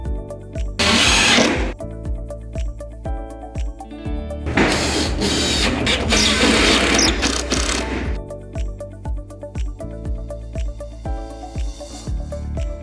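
A power driver sending #8 by 1.5 inch flathead screws through window brackets into wood framing, two loud sustained whirring drives separated by quieter background music with a steady beat.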